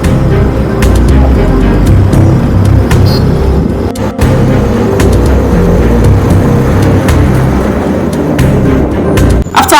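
Boda boda motorbikes ride through busy Kampala traffic, and their engines make a loud, steady roar mixed with road rumble and passing vehicles. A short dip in the noise comes partway through, then the roar returns.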